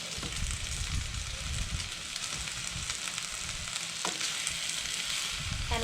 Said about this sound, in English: And now I'm going to add my peppers. As well as my zucchini.